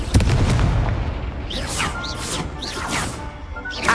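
Confringo fire spell blasts in the Hogwarts Legacy video game, a loud booming crash at the start followed by sweeping whooshing spell effects and impacts over a busy battle mix.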